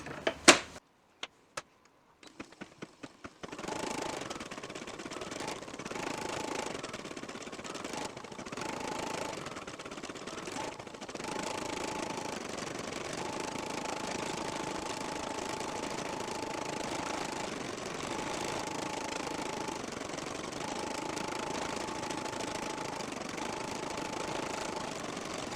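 Embroidery machine stitching a gingerbread ornament, a steady, fast mechanical chatter running continuously after a few sharp starting taps, close but quiet, with no talking.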